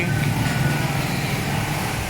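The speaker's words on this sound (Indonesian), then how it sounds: "Itu mesin untuk pemotongan juga." A cutting machine runs in a uPVC fabrication workshop, a loud, steady mechanical whir that holds level throughout with no voices over it.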